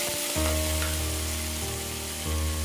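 Small round potatoes drop into hot oil with sliced onion and green chilli, setting off a loud, steady sizzle and crackle of frying that swells as they land, with light stirring and no talk.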